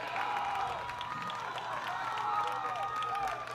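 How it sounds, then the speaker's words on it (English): Baseball crowd at a Full Count Rhythm vs Madisonville Miners game cheering and clapping after a game-tying single, a steady wide roar with whistles throughout. "the crowd loves it"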